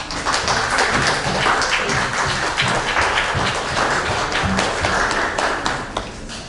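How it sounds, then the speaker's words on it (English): A seated audience at an annual meeting gives newly elected board members a round of applause: dense, steady clapping from many hands that fills the room for several seconds before tapering off. "let's give them a round of applause"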